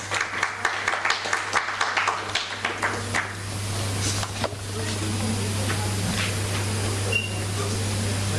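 Conference audience applause: a burst of crisp individual claps at first that thins out and gives way to a hissy room murmur and scattered small noises.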